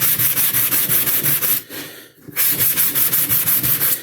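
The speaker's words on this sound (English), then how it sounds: "when you're sanding big areas like this, you want to turn it every few sanding strokes" Steady back-and-forth hand sanding strokes on a large flat surface of a 3D-printed part, rhythmic and close, roughly two strokes per half second, with a brief pause in the middle before the rubbing resumes.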